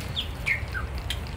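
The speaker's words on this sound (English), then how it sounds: "Look at that bird." A small bird gives three or four quick, high chirps over a low outdoor rumble, clear and fairly close, each call brief and sharp.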